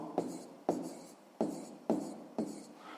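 A pen scratches across paper in five short, evenly spaced strokes. Each one starts with a crisp attack and fades out, close up and fairly quiet.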